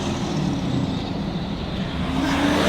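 A lifted pickup truck's diesel engine runs with a steady, loud low rumble close by, revving gently rather than hard, with no talking over it.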